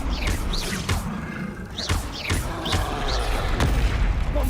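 Repeated Confringo blasting-spell explosions in the Hogwarts Legacy video game, a string of punchy booms and crackling impacts over a steady dense rumble of combat.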